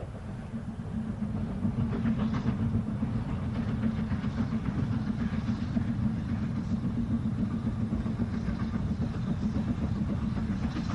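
A steam locomotive hauls a train on the North Yorkshire Moors Railway at the top of the steep 1 in 49 gradient from Grosmont to Goathland, a steady low rumble with faint rail clatter and no voices.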